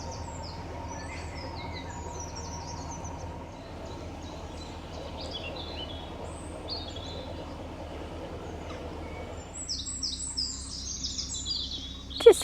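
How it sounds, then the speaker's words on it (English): Many birds sing outdoors beside a canal, with scattered chirps and short calls, some near and some distant, over a steady low background rumble. A brief louder knock comes near the end. "And you can hear so many birds singing."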